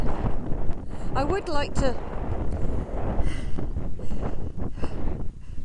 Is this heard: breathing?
no